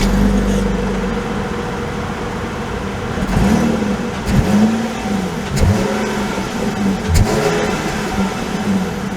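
The engine of a 2022 Jeep Grand Cherokee Limited pulls away on the road, with a steady mid-pitched drone and several rising revs as it climbs through gears, heard close and fairly loud under constant road rumble.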